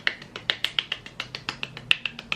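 A quick run of sharp hand claps or snaps, about a dozen crisp hits in a loose, uneven rhythm, close and fairly loud, with no voices.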